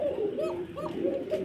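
Low rolling coos come from an Arabian koka pigeon of a kept pair, repeated in a soft, continuous rhythm at close range against faint background noise.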